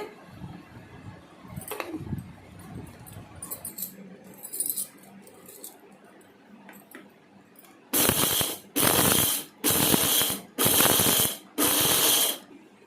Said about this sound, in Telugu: మిక్సీ పడుతున్నానండి